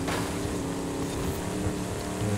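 A Chevrolet Silverado 6.7-liter V8 diesel engine runs with a steady, loud, low rumble and a continuous droning hum, unbroken throughout with no voices.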